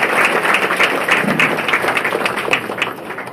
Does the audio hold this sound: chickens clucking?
no